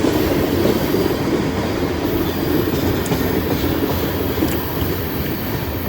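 A long freight train on the NS line rolls past with a heavy, continuous rumble and rail noise, wheel clatter and faint squeals riding on top, loud and steady throughout with no voices.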